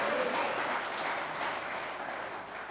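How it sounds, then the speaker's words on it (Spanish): Church congregation applauding during an apostle's sermon, a sustained wash of many hands clapping in a reverberant room, steady and fairly loud with no speech. "Démosle un fuerte aplauso al Señor"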